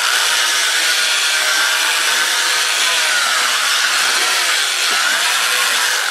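Steady, continuous abrasive hiss of a pad sanding a spinning wooden bowl on a lathe at about 450 RPM, with a faint motor whine underneath, no talking.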